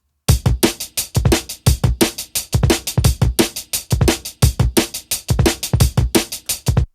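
Chopped drum breakbeat for drum and bass with an envelope shaper cutting the decay, giving punchy, dry, tight kick and snare hits in a fast steady pattern, loud and close with the room ambience stripped away.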